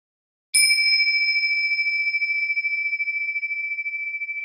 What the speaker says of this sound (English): when the bell sound came, you don't have to reach for it.